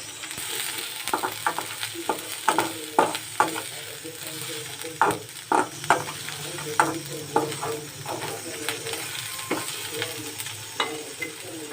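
Cauliflower gobi coated in turmeric, coriander and chili powders is stirred and fried in a pan, with repeated scraping strokes of a spoon over a soft continuous sizzle, close and moderately loud.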